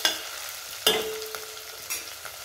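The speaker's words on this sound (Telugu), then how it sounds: "కొద్దిగా బ్రౌన్ కలర్ వచ్చే వరకు నేను ఫ్రై చేసుకుంటున్నాను ఇలా ఫ్రై చేసుకోవాలి" Spinach and beans curry frying in a pan until browned, with a soft steady sizzle broken by a few sharp stirring scrapes, close and fairly quiet, no voices.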